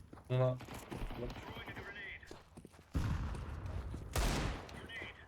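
Scattered gunshots in a Counter-Strike 2 match, a few sharp cracks among quiet game ambience, with someone talking over them.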